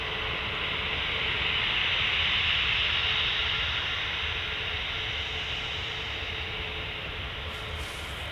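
An easyJet airliner bound for Pisa passes overhead as a faint, even, high-altitude rumble that stays steady throughout with no talk.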